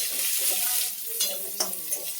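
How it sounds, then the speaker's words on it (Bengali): Chopped onion sizzles as it goes into hot white oil in a kadai, with a bright, close frying hiss and a few stirring clinks over about two seconds, no talk. "কড়াইতে সাদা তেল দিয়েছি, তেল গরম হয়ে গেছে, এবার পেঁয়াজ কুচিটা দিয়ে দিচ্ছি।"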